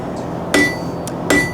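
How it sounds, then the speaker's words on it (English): Two sharp, ringing hammer blows on a steel blade's bevel during forging, struck about three-quarters of a second apart, close and clear against a quiet background. "As we hammer on our blade's bevel, getting a nice sharp edge, we're naturally going to curve upwards"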